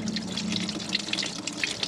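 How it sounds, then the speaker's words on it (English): Water pours steadily out of the transmission drain plug on an Oliver OC-3 tractor transaxle fitted with a Nissan diesel engine. It makes a continuous close splashing gush that runs without a break. "Looks like we're draining this transaxle. Pulling out the transmission drain plug."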